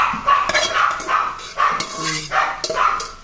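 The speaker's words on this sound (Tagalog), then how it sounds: "Ang ingay ng aso ko." A pet dog barks in short repeated yaps close by in a home kitchen, mixed with clinking of dishes and pots and a voice talking.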